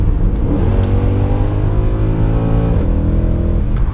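A tuned Mercedes C63 AMG with its M156 V8 revving hard, the engine note climbing steadily and then dropping and rising again, loud and close throughout with no talk.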